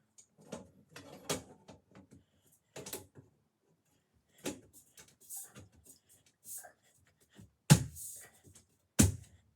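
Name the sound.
snapping Amazon Basics box spring frame parts together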